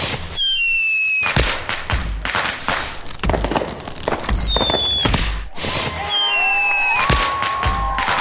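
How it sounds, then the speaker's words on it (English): A video game fireworks show fills the scene with rising whistles, rapid crackling bursts and booming explosions in quick succession, loud and continuous over faint crowd noise. "Oh my goodness, look at all these fireworks."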